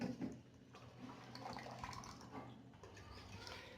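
Waste water from a water purifier, tested for a fault where neither fresh nor waste water comes through, runs in a faint, continuous trickling flow with small splashes and drips.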